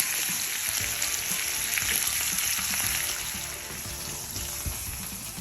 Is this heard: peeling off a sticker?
no